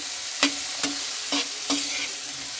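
Ginger and a little turmeric frying in oil in a pan, a steady soft sizzle broken by four or five sharp spoon scrapes and stirs at irregular intervals, close and moderately quiet with no voices.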